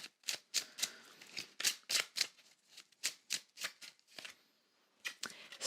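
Tarot cards being shuffled, a quick run of crisp riffling bursts at close range, a brief lull near the end before a few more flicks, with no voices.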